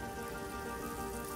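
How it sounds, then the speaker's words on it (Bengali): Jalebi batter hits hot oil with a continuous fine crackling sizzle, close and soft, steady across a brief moment with no speech. "এবার গরম তেলে আমি আমার প্রথম জিলাপিটি ছাড়ছি"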